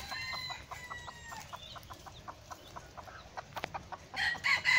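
A wild jungle fowl hen gives a rapid run of short, evenly spaced clucks as a warning to her chicks, close and clear, and the calls end in a sharper, louder outburst.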